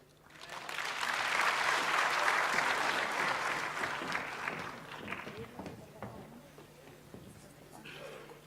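Crowd applause after a mayor's speech at a provincial crime summit, a broad wash of clapping that swells, holds for several seconds, then thins out with a few voices.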